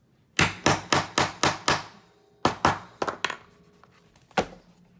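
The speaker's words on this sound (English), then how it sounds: "I hammer pretty hard because I want to make sure it's set real well in there." A hammer sets metal hardware into a steampunk journal cover: six sharp, evenly paced blows, a short pause, then a looser cluster of strikes and one final knock, all close and with no talking.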